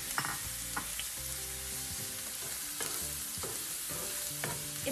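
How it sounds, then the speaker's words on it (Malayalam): Crushed shallots and green chillies sauté in hot oil for a mutton chukka, giving a steady, close sizzle with repeated scraping stirs of the spoon against the pan and no voices. "അതിനെ ഞാൻ ഇതിനകത്തേക്കിട്ട് നന്നായിട്ട് ഇതിനെ വഴറ്റിയെടുക്കാൻ പോവാണ്"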